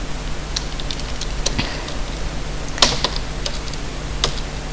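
Keys clack softly and irregularly on a computer keyboard as code is typed, faint scattered taps over a steady background hiss with no voices.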